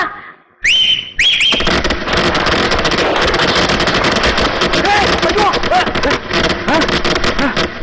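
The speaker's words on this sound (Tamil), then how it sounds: "என்னடா அது விசில் வேட்டு சத்தமா" A sharp whistle cuts in, then loud rapid firecracker bursts crackle continuously in a dense, near barrage for several seconds at celebration volume.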